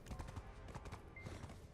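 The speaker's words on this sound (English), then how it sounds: "Horse here." A horse's hooves clip-clop rapidly in Black Desert Online, a short burst of thudding steps mixed into dense game ambience, fairly loud and close without speech.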